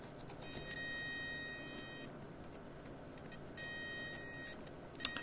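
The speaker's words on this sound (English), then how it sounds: "that buzzing just lets me know the motor's getting power." A Graham Farish HST model train in GNER livery, not running, with its motor buzzing faintly on power: a thin high-pitched electrical whine that cuts in and out in steady stretches, with a brief click near the end.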